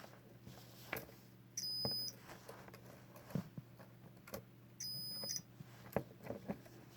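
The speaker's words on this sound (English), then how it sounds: "it should make a beep on each one." A multimeter in continuity mode gives two short electronic beeps as its probe touches freshly crimped Dupont terminal leads, each tone lasting about half a second against quiet background clicks and handling noise.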